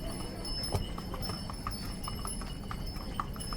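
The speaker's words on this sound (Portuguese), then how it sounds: "Esses são os burros de carga que carregam turistas para baixo e para cima," Pack donkeys carrying tourists up and down the stepped path to the old port at Fira, Santorini, their hooves clopping on stone in a steady, fairly close series over a constant outdoor background.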